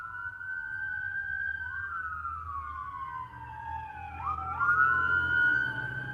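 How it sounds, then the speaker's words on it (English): Several emergency sirens wail at once from a moderate distance, their rising and falling tones overlapping over a low traffic rumble. "let's wait for the sirens to stop."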